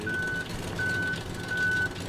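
Forklift reversing alarm in the physics game Human Fall Flat, three evenly spaced electronic beeps, each about half a second long, sounding loud and clear over a low engine hum.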